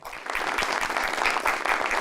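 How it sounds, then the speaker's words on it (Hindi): A television studio audience gives sustained, lively applause for two comedians, dense clapping close and fairly loud from start to finish. "दोनों के लिए तालियां।"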